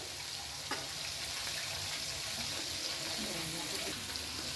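Cashews and raisins drop into a large pot of frying basanti pulao with about 1.5 kg of rice, giving a steady soft sizzle with a few faint stirring knocks.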